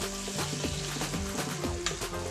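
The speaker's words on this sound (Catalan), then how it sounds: "anem a sofregir una mica la ceba" Chopped onion sautés in a hot pan on a home cooking show, giving a steady, close frying sizzle with occasional stirring scrapes throughout.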